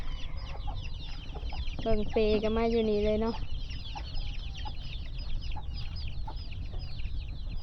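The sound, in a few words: chicks and chickens clucking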